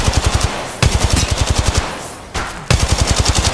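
Rapid automatic gunfire rattles in Apex Legends Mobile, loud close bursts of evenly spaced shots with brief pauses between volleys.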